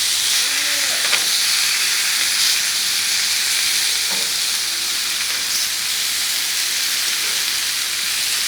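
Pork chops sizzle steadily on a hot grill grate, a constant loud hiss and crackle up close, with a few faint clinks of tongs.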